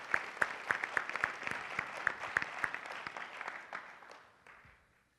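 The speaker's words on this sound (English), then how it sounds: "Round of applause for Ben and the team." An audience gives a round of applause at a sales and marketing automation seminar, a steady burst of clapping with some distinct nearby claps for about four seconds before tapering off to silence.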